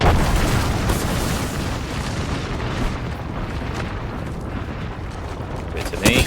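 Frag grenade blast in Apex Legends gameplay: a loud, sustained booming explosion rumble filling the whole stretch, with a sharper burst near the end and game sounds layered throughout.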